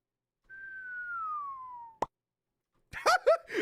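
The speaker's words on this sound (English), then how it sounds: "that's me whistling, by the way" A single long whistled note slides gently downward, followed by a sharp click and then a few brief chirpy sounds.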